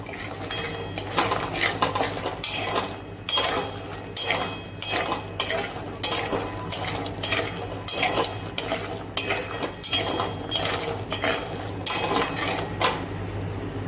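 A walnut mixture being roasted and stirred in a pan, a spoon scraping and clinking against the metal in steady repeated strokes, close and fairly loud, with no talking.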